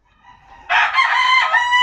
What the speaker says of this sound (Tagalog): Itong manok na ito, nanunuka ito.